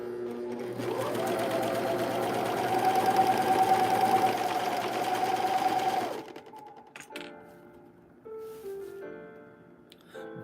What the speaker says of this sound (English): I'm trying to move the flowers out of the way so I don't serge over them